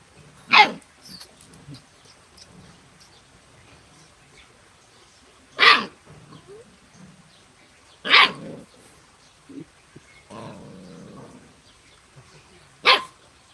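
A puppy lets out four sharp, loud barks spaced several seconds apart, with a low growl and a few softer snuffling sounds in between.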